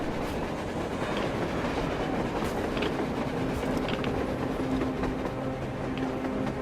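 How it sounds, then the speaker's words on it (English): A train in the video game Metro Exodus rumbles past with steady clattering wheels and occasional metallic squeals, loud and continuous throughout. "A train! A damn train on the surface!"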